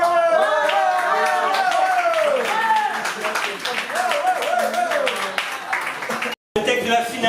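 An audience claps and cheers for the winner of a slam poetry night at La Zonmé in Nice, dense close applause under an excited voice calling over the crowd, briefly cutting out near the end.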